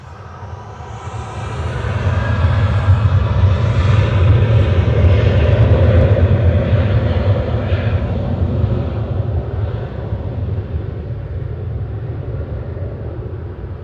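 Singapore Airlines airliner taxiing out at Manchester Airport, a steady loud jet engine roar that swells and then eases slightly, heard alone without talk.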